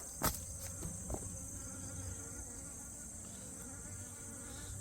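Korean native honeybees buzz steadily at a farm hive, a faint, continuous insect drone with a couple of brief louder ticks near the start and no voices.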